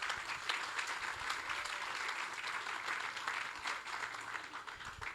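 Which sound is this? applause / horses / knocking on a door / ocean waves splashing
applause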